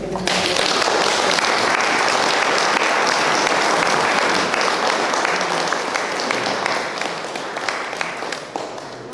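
Sustained, loud applause from an audience at a folk singers' gathering, dense clapping filling the whole stretch and tapering slightly near the end.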